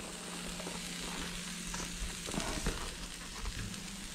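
Chopped vegetables and sausage frying on a Blackstone flat-top griddle set to low heat give a steady, close sizzle with a few soft scrapes and clinks partway through, and no one speaks.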